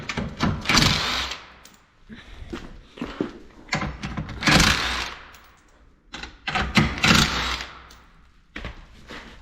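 Nuts coming off a BMW E36 325tds front bumper with a power tool, a 13 mm socket on each, heard as loud rattling bursts of an impact gun that start and stop repeatedly with short pauses between.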